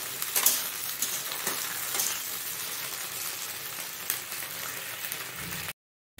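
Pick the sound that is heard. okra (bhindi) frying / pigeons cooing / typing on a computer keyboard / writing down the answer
okra (bhindi) frying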